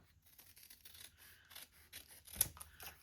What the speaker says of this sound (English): I'm going to cut a strip of this.